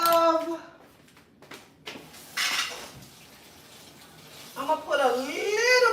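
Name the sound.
water being added to a pot to make steam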